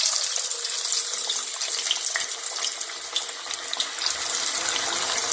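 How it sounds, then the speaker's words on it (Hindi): Fish frying in hot ghee in a kadai, giving a loud, steady, close hissing sizzle with scattered crackles throughout. "घी हमारा गर्म हो गया, अब मैं फिश डालने लगी हूँ।"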